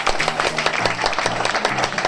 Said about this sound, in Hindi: इसके लिए आप सब हल्का हल्का ताली बजाइए